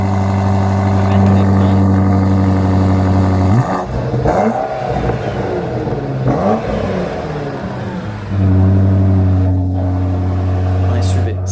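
At a car auction, a BMW SUV idles with a deep, steady hum, then revs hard through several rising and falling surges before settling back to an even idle near the end.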